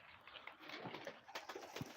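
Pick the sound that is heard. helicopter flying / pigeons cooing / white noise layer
pigeons cooing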